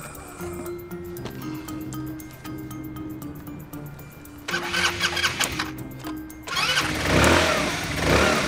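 A scooter engine cranks with rapid ticking starter clicks, then catches and roars loudly to life before settling into a close, revving idle.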